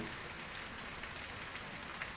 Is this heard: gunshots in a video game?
no